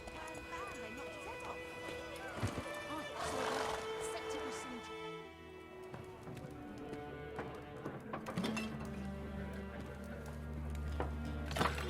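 Roach, the horse in The Witcher 3, clops along with rhythmic hoofbeats and lets out whinnies, while game voices talk over the hooves.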